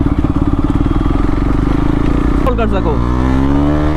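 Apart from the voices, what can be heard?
KTM Duke 390 motorcycle with SC Project CR-T exhaust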